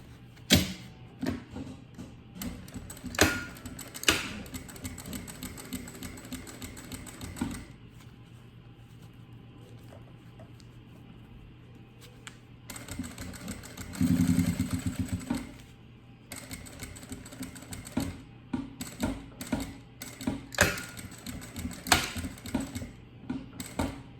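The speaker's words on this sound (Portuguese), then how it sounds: "vou passar uma costura de segurança aqui na parte de baixo da nossa peça" A sewing machine runs a safety seam along the bottom of a fabric case for chocolate bars or a phone, with rapid close mechanical stitching in long runs broken by short pauses and a louder stretch midway.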